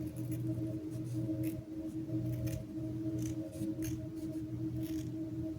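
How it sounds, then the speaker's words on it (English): Scissors snip through velvet ribbon while a small heart shape is cut, giving a run of short, evenly spaced crisp cuts that repeat close to the mic. "I'm just gonna cut out a little heart shape"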